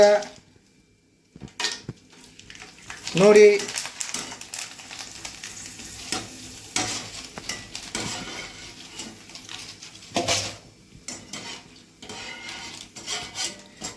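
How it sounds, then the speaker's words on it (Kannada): Potato chips frying in hot oil, a soft steady sizzle with occasional stirring scrapes, under a person's speech. "ಈಗ ಎಣ್ಣೆ ಒಳಗೆ ಹಾಕಿವತ್ತ. ನೋಡಿ ಕರಿಯಾಕತ್ತೀವಿ."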